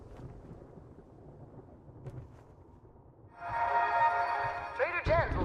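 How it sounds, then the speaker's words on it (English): Thunder from a storm in the 7 Days To Die video game rolls in partway through, building into a loud, sustained rumble after quieter ambience, with a voice speaking over it near the end. "that storm came up quick."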